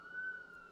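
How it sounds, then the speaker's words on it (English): A steady emergency vehicle siren wails from a Manhattan street, a single sustained tone, faint and distant, with no talk over it. "Still got the sirens low?"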